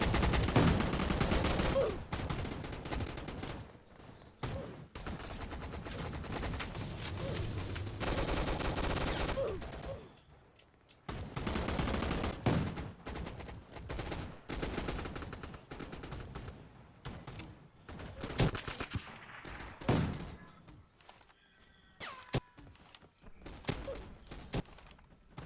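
Heavy bursts of enemy gunfire in a game, sustained rapid fusillades and machine-gun volleys alternating with brief gaps and isolated shots, loud and close, with faint voices now and then.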